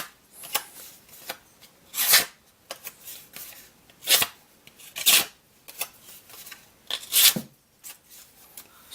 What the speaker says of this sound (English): Now, after all that cutting, let's do another paper cut test.